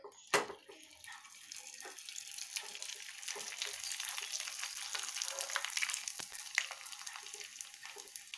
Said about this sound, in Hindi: आलू के पापड़ तलने के लिए मैंने एक पैन में ऑयल डाल के रखा है।